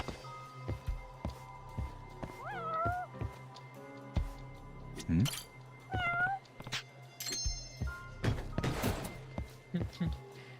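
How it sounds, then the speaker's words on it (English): In the video game Judgment, a cat gives two separate short meows, with dull thunks and other game noises around them while a person talks intermittently. "Oh, cat, where are you?"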